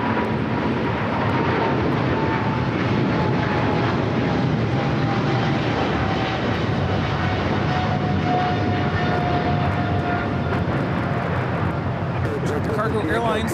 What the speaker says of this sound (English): Cargo Airlines 222 taking off to Shanghai on the 777 freighter